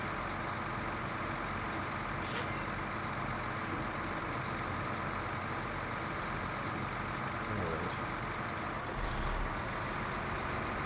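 A truck engine with a glass pack exhaust drones steadily in the SnowRunner video game, a loud continuous raspy rumble with a couple of brief hissing bursts.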